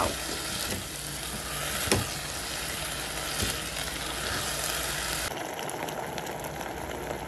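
A pan of leek risotto with dry white wine being stirred as the wine evaporates, giving a steady close hiss and sizzle with soft bubbling and no voices.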